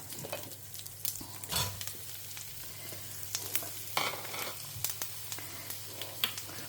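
Green chilies sautéing in a pan, a faint, quiet sizzle broken by occasional scraping stirs and light clinks of a spatula, no voices.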